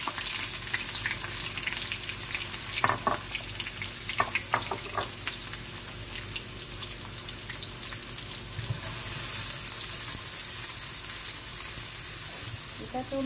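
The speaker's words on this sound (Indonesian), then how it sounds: "Kita tumis ni ya, bawang kita ni" Onions sauté in hot oil for a sweet-and-sour crab dish, giving a continuous moderate sizzle with a few sharp clicks from the utensil and a brief hiss toward the end.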